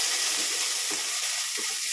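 Onion and garlic sautéing in a hot pan for chicken curry, a steady, loud, crackling sizzle that runs continuously with small pops and no voices over it.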